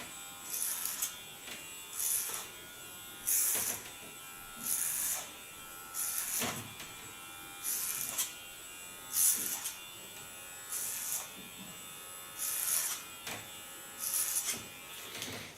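Electric hair clippers with a high-capacity rechargeable battery buzz close by in repeated bursts about a second long, pausing briefly between passes during a short haircut.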